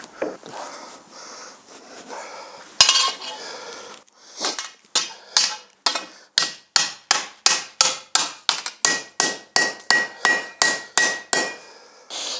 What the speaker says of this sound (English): Why did I grab my hammer?